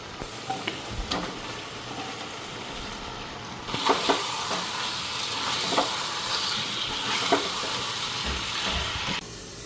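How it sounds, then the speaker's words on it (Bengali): Spice masala frying in hot oil, a steady hiss and sizzle with occasional spits and crackles, growing louder partway through, heard close with no talking. "মশলাটা একটু ভাজা হোক, তারপরে চিকেনগুলি দিয়ে দেবো, ঢাকা রাখি।"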